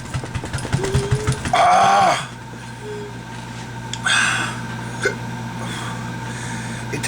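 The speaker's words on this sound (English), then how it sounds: "The hiccups." Hiccups after eating a Caribbean red habanero chili, a few sharp vocal gulps and squeaky voiced bursts spaced over several seconds, close and loud over a steady low hum.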